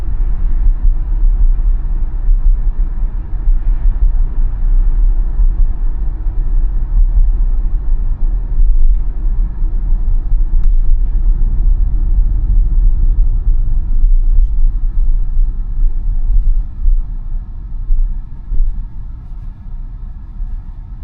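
A Tesla running FSD Supervised v14.2.2.2 cruises along urban streets, heard from inside as a constant low road rumble with faint tire and cabin noise and no talking.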